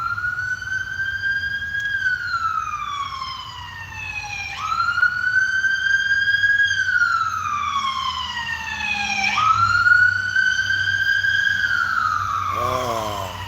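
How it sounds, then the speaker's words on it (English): Emergency vehicle sirens wail in repeated rising and falling sweeps, fairly loud and steady as they pass, with a low road rumble beneath and no talking. "sirens."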